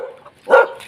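A dog gives a single sharp bark outdoors during a mulberry-picking walk, short and fairly close, with quieter background sound before it.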